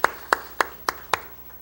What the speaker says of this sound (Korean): 우리 감사합니다 하는 우리의 뜻으로 박수 한번 치겠습니다